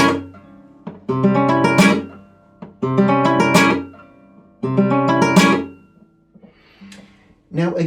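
Flamenco guitar plays a tientos phrase: rolling thumb strokes down the strings, then an index strike up and down that ends muted, repeated three times with short pauses between.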